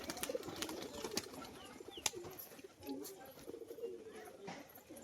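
Pigeons coo softly in low, throaty bursts at a distance, with flapping and other birds in the background.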